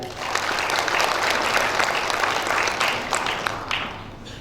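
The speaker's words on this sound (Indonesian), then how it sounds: "beri tepuk tangan" Audience applause at a graduation ceremony for a college of administrative sciences, a dense, steady crowd clapping that fills the hall at even loudness and tapers slightly at the end.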